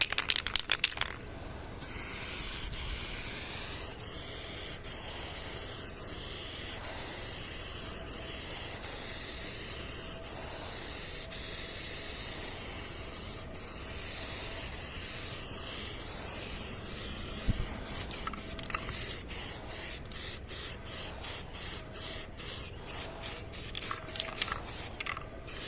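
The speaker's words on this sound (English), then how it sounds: "Got a couple drippies out of the spray can." An aerosol spray can applies 1K primer filler in a long, close, continuous hiss, followed by a run of short spurts toward the end.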